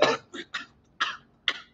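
A person gives a short burst of dry coughs, five sharp hacks in quick uneven succession, close and clear against a quiet room.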